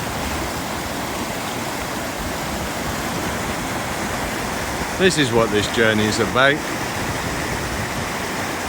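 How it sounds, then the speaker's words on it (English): A river rushes steadily past a waterfall in Albania, a broad continuous roar of flowing water that carries on while someone speaks briefly over it. "but listen to that flowing river."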